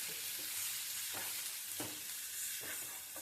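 An onion and capsicum mixture sizzles steadily in a pan on a low flame, with several soft scraping stirs of a spoon over the frying.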